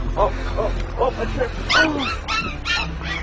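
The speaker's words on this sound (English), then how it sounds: "Too cute, little puppy." A small puppy yips and whimpers in short, high-pitched bursts, close and repeated, with people's voices audible around it.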